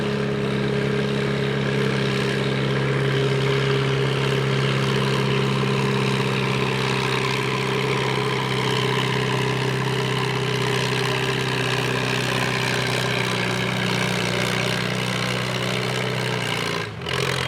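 A Minneapolis Moline farm tractor idles at a tractor pull with a steady, loud low engine drone. It holds unbroken for the whole stretch and dips briefly near the end.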